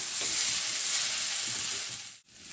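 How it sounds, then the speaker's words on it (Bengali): Pointed gourd and ridge gourd mixture sautéing in a pan, giving a steady, bright sizzle with faint stirring that cuts out briefly near the end. "আরও মিনিট 2 এইভাবে কষিয়ে নিলাম"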